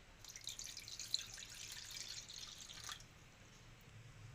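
Water poured into a bowl of curd with a little salt while making dahi vada batter; a faint, steady trickle runs for about three seconds, then stops.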